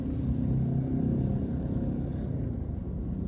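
Road traffic on a congested street in Imus, Philippines, a low steady rumble of idling and slowly moving engines heard close, with no talk over it.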